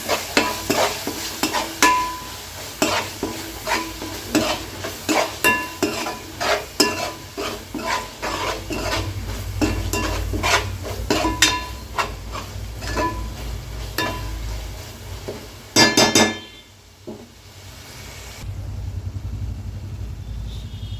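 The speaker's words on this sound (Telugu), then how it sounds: "నేను 1 స్పూన్ ధనియాల పౌడర్ అండి. బాగా కలిసేటట్టు కలుపుకుందామండి మొత్తం." A spoon stirs coriander powder into chicken biryani masala in a pan, scraping in quick repeated strokes over a steady sizzle, with a brief louder clatter near the end and no voices.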